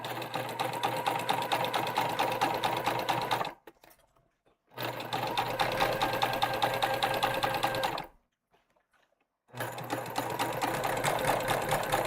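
A home sewing machine stitches a Fieldstone tote in three bursts of rapid, rattling needle action, separated by two short pauses of near silence; no talking.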